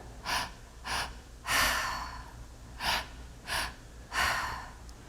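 Deep breathing in a breathing meditation: six slow, close breaths in a steady rhythm, each an airy rush through the nose or mouth, with two longer, fuller ones, and no talking between them.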